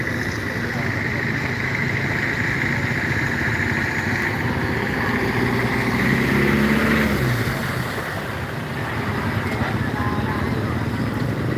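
Motorcycles pass along a flooded road, their mid-pitched engines running steadily and close by for the whole stretch, with louder revving near the middle, over constant traffic rumble and the background wash of the water.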